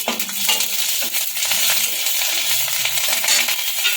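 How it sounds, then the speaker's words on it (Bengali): Steady crackling and sizzling of panch phoron, bay leaves, dried red chilies and split green chilies frying in hot oil, with occasional light clinks, fairly loud and continuous with no voices. "এই তেলের মধ্যে পাঁচ ফোড়ন তেজপাতা শুকনো লঙ্কা আর দুটো কাঁচা লঙ্কাকে চিড়ে নিয়েছি ফোড়ন দিয়ে দেবো"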